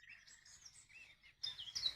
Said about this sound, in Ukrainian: Ну, пташки, мабуть, мене переспівують.